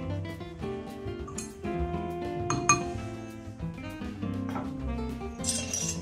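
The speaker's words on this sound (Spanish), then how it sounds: "podemos remover un poco para con la cuchara espiral para mezclar bien el zumo de limón" Spiral bar spoon stirring lime juice and sugar for a caipirinha, with steady clinks and scrapes of metal against glass, close and continuous.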